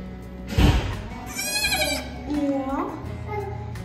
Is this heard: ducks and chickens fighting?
no